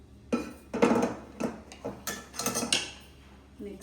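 Roasted dry fruits for ladoos being scooped and moved into a pan, with irregular metallic clinks and scrapes of a utensil against cookware, close and moderately loud.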